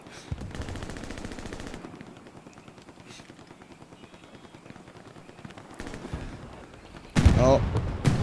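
Artillery strikes in a tank combat video game, with sustained rumbling fire and rapid machine-gun-like bursts, then a loud, close explosive blast near the end, all under speech.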